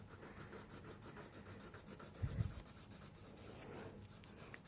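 A colored pencil, a Prismacolor, layering yellow over an art journal drawing, giving a faint, steady scratchy rub of the pencil lead on paper that goes on throughout, heard alone without talk.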